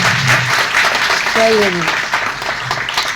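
An audience at an award ceremony claps steadily to welcome an honoree, a dense wash of applause under a brief voice.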